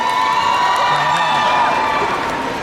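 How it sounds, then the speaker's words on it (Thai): A crowd cheering and clapping together at a charity event, a loud, steady wash of applause with shouts and whoops rising through it. "เอาขอเสียงปรบมือหน่อยครับ"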